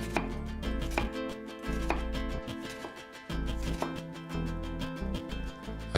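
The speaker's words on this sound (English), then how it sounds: "And then just cut into stripes, and don't cut all the way to the bottom" A kitchen knife chops half an onion into strips without cutting through to the base, giving a string of crisp, close board taps over steady tonal background music.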